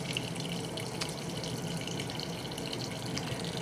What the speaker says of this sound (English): just move it to 8 and just hit start again, and it'll add more water like that